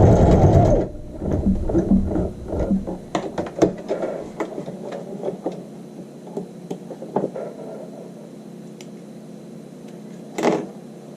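Sewing machine stitching the hem of a child's shorts at close range, finishing with a back stitch, in uneven bursts of whirring and clicking that trail off into quiet, with a final short burst near the end.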